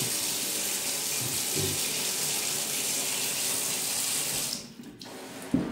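Water runs steadily from a sink tap while rice is rinsed for cooking in South Korea, a loud continuous gush that cuts off near the end.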